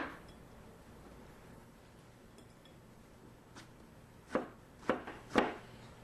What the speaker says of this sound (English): I'm just kind of cutting them up into strawberry pieces